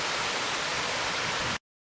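Water flows steadily beneath an old stone bridge as a constant, dense rushing hiss with no pauses, then cuts off abruptly.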